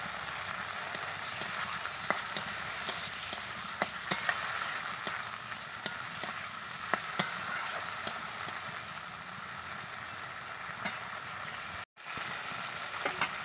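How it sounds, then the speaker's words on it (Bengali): Chopped raw tomatoes fry in spice masala for a tilapia curry, giving a soft, continuous sizzle peppered with small pops and crackles, quiet and close, with a brief dropout near the end. "এবার আমি কুচি করা টমেটো দিয়ে দিচ্ছি কাঁচা টমেটোগুলো এবার দিয়ে দিচ্ছি"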